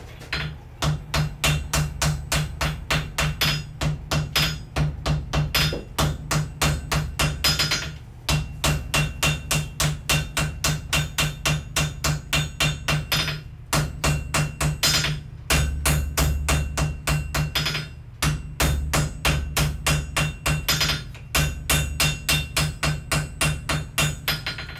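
Wrought iron being forge welded on an anvil, hammered in steady rapid runs of loud, ringing blows with short pauses between volleys, close and alone throughout.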